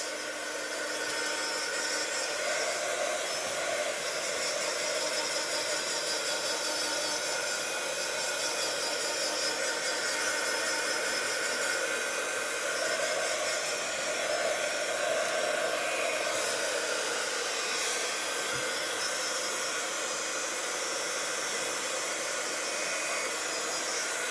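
A hair dryer drying clear gesso blows continuously at a steady, loud rushing hiss, close by, with only slight shifts in tone and no talking.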